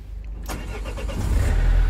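Renault Master van with an EDC15C13 diesel engine control unit, cranking and firing up, a brief starter whir followed by the engine catching and settling into a low, rising rumble close by, with no voices.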